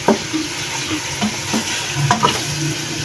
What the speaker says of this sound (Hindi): चम्मच के साथ आप इसको हिलाते जाएं, क्योंकि इसकी सारी साइडें जो हैं वो पक जाएं, अच्छे तरीके से फ्राई हो जाएं